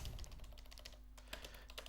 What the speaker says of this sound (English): I'm gonna type the email.